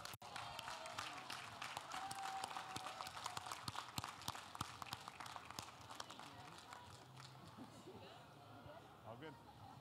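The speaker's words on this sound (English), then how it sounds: "Let's give these winners another round of applause," Audience applause for winners at a hackathon awards announcement, a fairly faint crowd clapping that is dense at first and then gradually thins out, with people talking over it.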